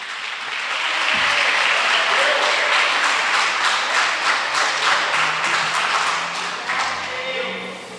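A church congregation applauds in praise during a service, a broad, sustained burst of clapping that swells quickly and holds strong before easing slightly toward the end.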